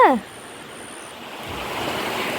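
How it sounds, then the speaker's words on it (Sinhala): After a brief voice at the start, a broad rushing wind builds and roars steadily at a river, close and fairly loud like gusts over open water. "අපි ගඟේ ඉද්දී ෂෝක් හුළඟකුත් ආවා"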